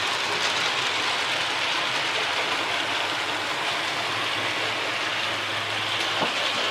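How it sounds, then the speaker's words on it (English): A model Class 40 diesel locomotive runs round the outer track of a model railway, a continuous close rumble with steady rolling wheel noise and no voices. "coming round on the outer track we've got a Class 40. This is the Class 40 diesel loco"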